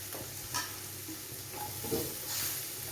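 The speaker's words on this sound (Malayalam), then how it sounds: "പിന്നെ ഇനി നമുക്ക് ഉരുളക്കിഴങ്ങ് ഇട്ട് കൊടുത്ത് 2ാം പാൽ വെച്ച് കൊടുക്കാം." Potatoes cook in thin second coconut milk for an egg and vegetable stew, giving a steady soft bubbling simmer with faint stirring scrapes at moderate distance and no voices.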